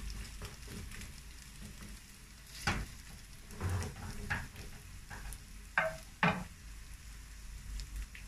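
Cauliflower pieces coated in flour frying in a pan, a low steady sizzle with occasional louder pops and scrapes as pieces are turned, no talking.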